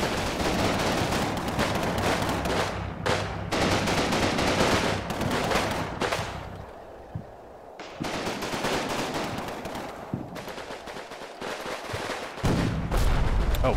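Machine-gun fire in Combat Mission Red Thunder, a World War II battle toward Berlin, long loud rattling bursts with brief gaps and a quieter lull midway before the shooting resumes, and no talking.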